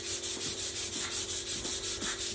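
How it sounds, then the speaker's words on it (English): A finger wiping excess paint off wood, a close, soft, steady rubbing in quick, even back-and-forth strokes, about ten in a row with no talk. "I'll take my finger and wipe a little of the excess off around that"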